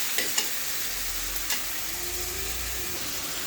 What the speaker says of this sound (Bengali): এখন দিয়ে দিচ্ছি 1 চামচ রসুনের পেস্ট, দিয়ে ভালো করে নেড়ে চেড়ে নিচ্ছি।